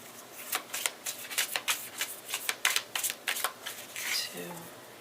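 A deck of tarot cards being shuffled by hand in a quick run of crisp riffling flutters, close and fairly soft, with a short voice at the end.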